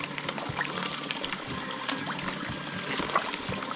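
Water pours into a koi pond in a faint, steady trickle and splash that continues unbroken throughout, with no speech.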